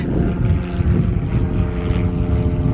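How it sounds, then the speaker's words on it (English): A small, old propeller plane drones overhead, its engine note steady and loud throughout with a continuous rumbling hum and no talking. "I don't know what plane that is, but I think it's an old one."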